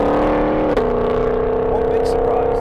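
A Ford Mustang Shelby GT500 V8 engine runs loud and sustained, its tone climbing steadily as it revs toward 7,500 RPM while the car pulls hard.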